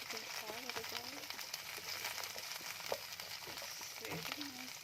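Onion and garlic fry in a pan until golden, a steady crackling sizzle running throughout, with occasional stirring clinks and a voice talking over it.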